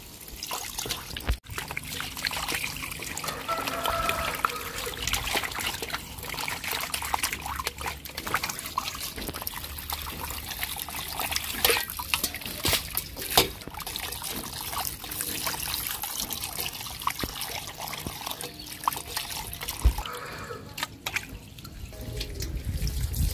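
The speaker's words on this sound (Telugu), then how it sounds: "ఇట్లా శుభ్రం కడుక్కోవాలి" Water runs steadily from a tap into a sink while fish pieces are washed clean, with splashes, trickles and occasional knocks of handling.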